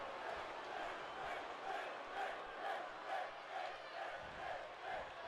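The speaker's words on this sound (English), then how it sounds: "You can hear the chants of Finn, Finn, Finn." A wrestling arena crowd chants the name Finn in a steady rhythmic call, repeated about every half second, loud and filling the room with no commentary over it.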